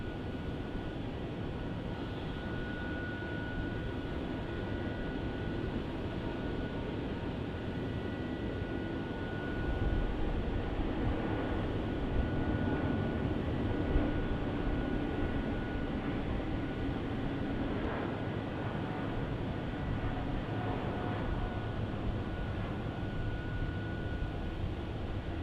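An airliner takes off from runway 27 at Melbourne Airport, a steady broadband roar heard from a distance that swells slightly partway through and holds, with no voices.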